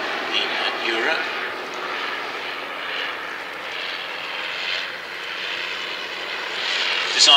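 Engine of a Bristol F2B biplane with a large wooden propeller running at an airshow at Old Warden, a steady moderate drone over several seconds while a commentator talks over it.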